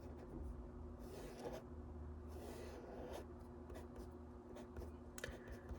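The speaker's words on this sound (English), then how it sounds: "So I'm going to draw it again here." Pen drawing a sodium dot and cross diagram on paper: soft, close scratching strokes and taps in short irregular bursts over a low steady hum, no voices.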